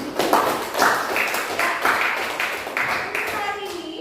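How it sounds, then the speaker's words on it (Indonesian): Students in a classroom applaud together, a dense, steady patter of many hands clapping close by that swells in short waves, with voices mixed in throughout. "Jadi tepuk tangan untuk kita semua."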